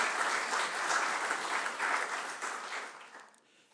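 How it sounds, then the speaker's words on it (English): Sustained applause from an evening audience at a city council chambers rededication, honoring former elected officials; dense, steady clapping that fills the room, then thins and fades near the end. "can we have a round of applause for all of these former elected officials"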